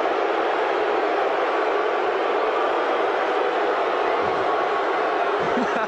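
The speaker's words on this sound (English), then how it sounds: "the roar of the crowd you hear each time we look at the play" A steady, loud stadium crowd roar at a 1990 NFL game between San Diego and Dallas, a broad continuous wash of noise that holds unbroken with no talk over it.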